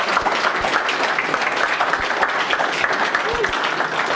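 Audience applause for a presenter after a talk on test-driven development, a dense continuous clapping wash with some nearer claps and possible murmured voices mixed in.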